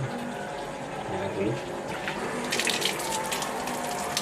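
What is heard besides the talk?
running tap water while washing a keris blade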